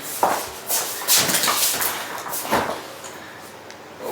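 A sliding door in a primary suite is tugged at and rattled, with a series of scraping slides and knocking bumps of uneven rhythm, close by and fairly loud.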